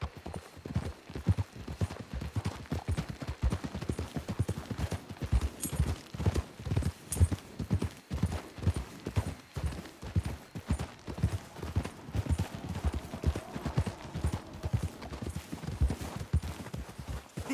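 Horse hooves clip-clop steadily in Red Dead Redemption 2, a dense, continuous rhythm of close, fairly loud hoofbeats with no talk over them.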